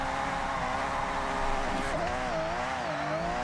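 A car drifting in Forza Horizon 6 played on a steering wheel, the engine droning steadily with wavering revs that rise and dip through the drift, with faint tyre scrub underneath and no talking.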